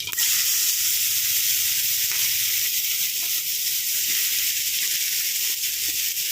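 Mustard seeds pop in hot oil that hisses and sizzles steadily in a pan, with small scattered pops and crackles coming through the constant frying noise.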